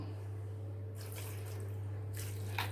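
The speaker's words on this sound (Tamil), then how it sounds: "இப்போ இது கூட கொஞ்சம் தண்ணி சேர்த்துக்கிடுவோம்" Water splashes in two short pours into a jar for watermelon juice over a constant low electrical hum, faint and close, with a small clink at the end.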